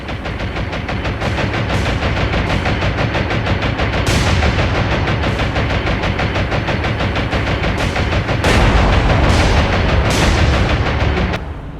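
Anti-aircraft flak fire in the naval video game War on the Sea during a battleship hunt: dense, continuous rapid gunfire and booms, loud and unbroken throughout, with no talk.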